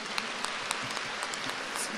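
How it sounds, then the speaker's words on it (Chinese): Studio audience applause, a steady dense patter of many hands clapping at moderate distance, continuous and fairly soft with no voices on top. "鼓掌"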